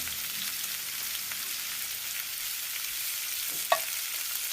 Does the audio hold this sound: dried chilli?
yes